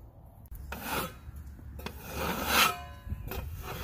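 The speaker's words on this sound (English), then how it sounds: "Scrape it all the way down." Sawdust scraped up beside a Woodmizer LT10 bandsaw mill after cutting maple, several rough rasping strokes of varying length, close and fairly faint, with brief pauses between them.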